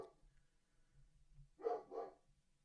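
Two short dog barks in quick succession, somewhat distant and muffled, after a stretch of quiet.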